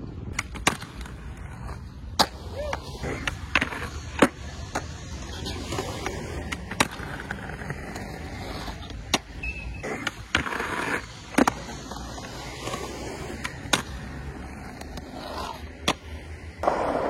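Skateboard wheels roll over rough concrete in a skatepark in Châteauroux, France, with a constant rumble, broken by frequent sharp clacks and knocks from the board hitting edges and ramps.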